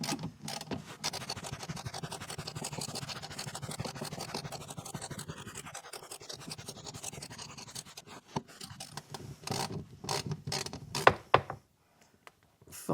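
Long bolts are undone under a 1.5 dCi Renault Scenic 3 during an oil and filter change, giving a continuous scraping, creaking ratchet-like grind followed by a few clicks and knocks, close by and without speech.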